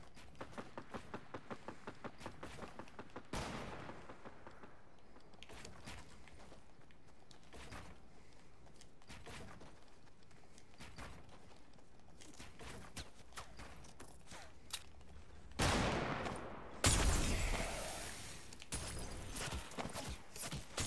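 Rapid gunfire from a competitive shooter match, a fast run of sharp shots early on, then scattered pops and louder bursts near the end.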